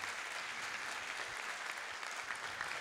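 Steady audience applause fills a Turkish municipal music awards ceremony, a dense, even patter of many hands clapping continuously at moderate distance.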